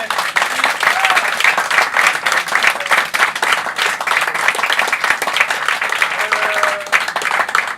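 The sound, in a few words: audience applause at improvisation theatre show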